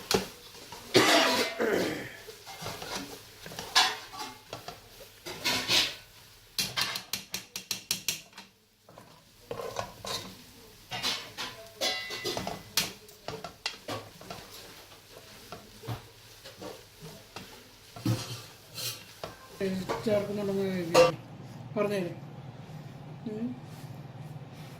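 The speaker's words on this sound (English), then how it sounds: "Now we will be adding the cooked onion, ginger and garlic mix to the meat." Cooked onion, ginger and garlic mix being added to minced beef for cutlets, with stirring, scraping and clattering from a utensil in a bowl, broken by coughs and throat clearing nearby.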